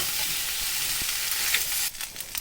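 Pasta tossed with pasta masala spice sizzles in a hot pan, a soft steady crackle with a few light stirring scrapes near the end and no voices.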